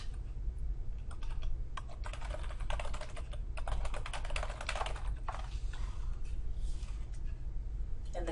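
Rapid, continuous keystrokes on a computer keyboard, close and clear, with quick clusters of clicking and brief pauses and no voices.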